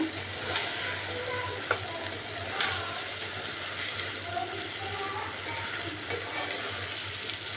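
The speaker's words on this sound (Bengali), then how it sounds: "আমি তেলের মধ্যে একটু হালকা ভেজে নেবো" Water spinach (kalmi greens) fries lightly in oil, a steady close hiss under a low hum, with occasional ticks and scrapes from stirring.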